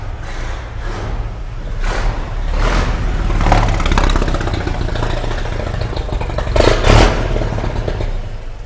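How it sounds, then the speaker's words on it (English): A 1909 Panhard Type Q racing car with a 10.5-litre T-head four-cylinder and double chain drive runs at an auction, its engine idling with a rough, pulsing clatter, loud and close, alone. "That is the 1909 Panhard Type Q Racing."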